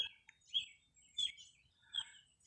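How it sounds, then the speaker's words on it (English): Birds chirp faintly in open countryside, three short bright calls spaced about evenly apart over quiet, distant background. "So you come out and listen to the birds."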